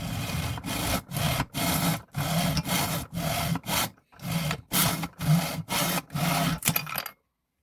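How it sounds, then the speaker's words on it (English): A hand miter saw cuts through wooden scales for a marking knife, with steady back-and-forth rasping strokes in a regular rhythm, a brief pause midway, close and fairly loud. "we're going to use our hand miter saw on this to cut our"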